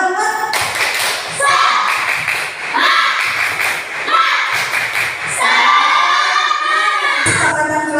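Grade four schoolchildren performing a rhythmic clap-and-chant cheer in a classroom, loud bursts of claps and taps in patterned groups mixed with shouted voices, with brief pauses between phrases.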